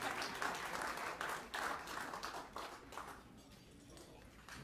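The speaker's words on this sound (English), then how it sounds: "Applause." At a live jazz event, an audience applauds a big band being welcomed, with quiet, dense, continuous clapping that rises in waves and gradually thins toward the end.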